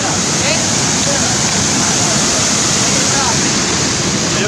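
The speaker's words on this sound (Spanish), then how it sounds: "tiene una cascada." Waterfall at a river spot near Cuzcurrita, a steady, loud broadband rush of falling water filling the whole moment without pause, close by and unbroken, with no distinct voices rising above it.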